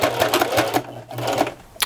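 Close-up sewing machine stitching steadily around a pants waistband with a rapid mechanical rattle, pausing briefly midway before running again.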